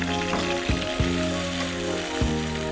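Curry leaves sizzle in hot oil for a tempering, giving a steady close crackle with a few sharp pops and spatters.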